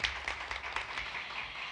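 Scattered applause from an audience at a public hearing in a council chamber, brief and fairly faint, with a few sharper claps standing out over a soft wash of clapping.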